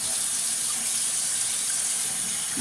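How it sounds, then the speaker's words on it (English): Tap water runs steadily into a laundry room sink while it is being rinsed, a constant loud hissing splash with no break for the whole stretch. "Let's rinse our sink. Very important to rinse because germs"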